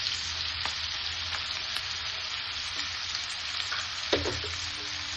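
Chopped onions fry in a pan for mushroom masala, a steady close sizzle with occasional stirring scrapes and a brief clatter near the end, no voices.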